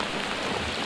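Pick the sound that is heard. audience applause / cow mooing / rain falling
rain falling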